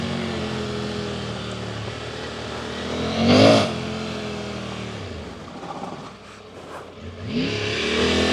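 A Triumph Tiger 900 Rally Pro motorcycle rides with its engine droning steadily and rising in a brief loud rev burst as the rear wheel spins, then easing off before building again.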